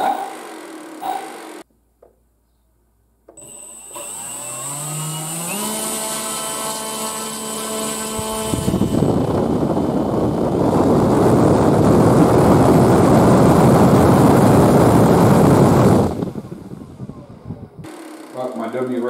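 A small motor on an RC model Goose aircraft spins up from a rising whine to a steady loud roar, holds for several seconds, then cuts off abruptly.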